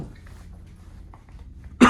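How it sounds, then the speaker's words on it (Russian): A single sharp, loud cough bursts out close by at the very end after near-silence, in a dusty abandoned apartment. "за свой кашель."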